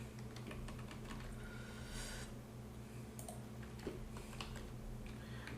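Computer keyboard keys tapped in short irregular bursts, arrow keys nudging a shape in Illustrator, faint clicks over a low steady background hum.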